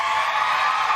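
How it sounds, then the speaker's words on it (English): A crowd roars and cheers at the Westminster Kennel Club dog show as a French Bulldog wins the Non-Sporting Group, a loud, continuous wash of noise for about a second. "the crowd goes wild"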